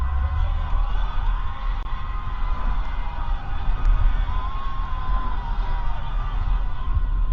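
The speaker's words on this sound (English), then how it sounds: "Weren't necessarily expecting it to be the left of French politics that were cheering at this moment" A crowd at a French left-wing election rally cheers and whoops continuously, a dense, fairly loud roar with shouts rising out of it throughout.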